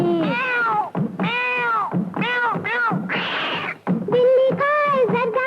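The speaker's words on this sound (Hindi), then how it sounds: "चिट्ठी में से निकली बिल्ली" Meowing for a Hindi children's song about a cat pours out as a quick string of loud, drawn-out calls, close up and one after another.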